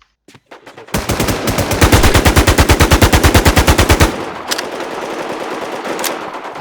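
Loud automatic gunfire from the online shooter game NewZ, a rapid burst of evenly spaced shots lasting about three seconds, followed by fainter ambient game noise and a couple of distant pops.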